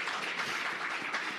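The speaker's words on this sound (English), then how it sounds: "Let's give Confidence a round of applause." An authors forum audience applauds, a soft and continuous hiss of many hands clapping at a distance, quiet and even throughout with no voices over it.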